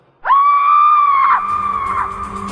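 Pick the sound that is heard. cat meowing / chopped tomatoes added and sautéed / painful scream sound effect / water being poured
painful scream sound effect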